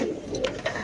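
Soft, close cooing of pigeons on a farm, a few low murmuring calls over a light background.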